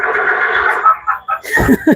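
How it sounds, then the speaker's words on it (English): A horse at Magic Kingdom gives one loud, close whinny that rises and falls over about two seconds, followed by brief snorting breaths. "We have the horse here."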